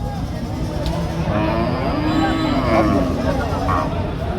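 A two-toothed cow at a Chaugachha cattle market gives a long, drawn-out moo that rises and falls, heard close over a steady background of crowd babble.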